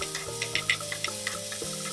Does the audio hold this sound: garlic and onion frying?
yes